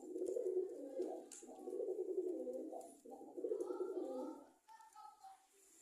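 A domestic pigeon coos repeatedly in soft, rolling phrases near its cage nest, close and clear, with faint chirps toward the end and no talk.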